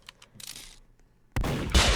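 Gunfire in the Roblox video game: faint scattered pops, then a loud, dense burst of rapid shots that holds to the end.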